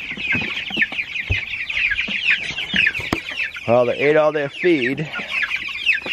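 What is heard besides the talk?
meat bird chickens chirping and clucking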